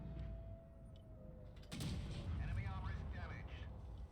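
A tank cannon fires in World of Tanks Blitz, with the FV 217 Badger in play: one sharp heavy boom midway that rolls into a sustained rumble, over game background sound with a faint voice.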